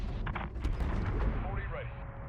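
A gunship's 40mm cannon fires a heavy booming shot that rolls out over a dense, rumbling background, with a voice present in the mix.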